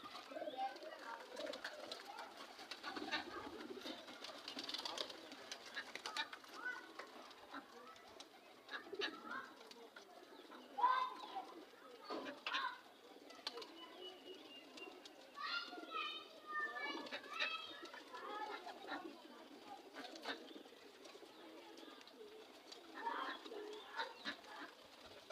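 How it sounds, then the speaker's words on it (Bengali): Pigeons and young pigeon chicks coo softly near a loft, scattered low calls repeating across a long stretch while children's voices and other talk carry on in the background. "ওই কিছু কবুতর খোয়ারে ঢুকে গেছে, আর কিছু বাচ্চা এখানে আছে।"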